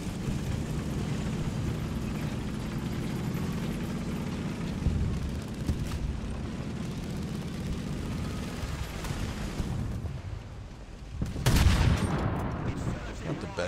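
Gunfire in War Thunder, a dense rumbling battle din of tank and cannon fire that carries on throughout, with a sharp louder blast near the end.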